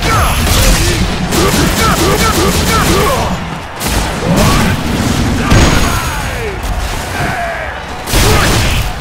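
Guile's Sonic Boom special move in the Street Fighter V video game: loud, repeated whooshing blasts and booming impacts in quick succession, with a voice calling out over the fighting.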